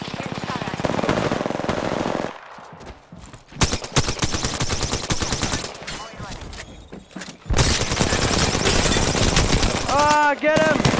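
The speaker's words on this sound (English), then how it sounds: "I am taking fire, friends" Rapid automatic gunfire in the Apex Legends video game, with repeated bursts and fusillades at close range broken by short pauses and a few scattered single shots.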